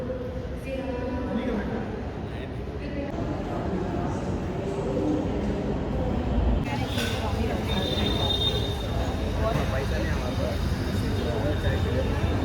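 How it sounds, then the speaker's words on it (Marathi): A metro train rumbles steadily into a station in Pune, with a sharp hiss or brake release partway through, while people chatter in the crowded station. "गाडी मेट्रो आली ना"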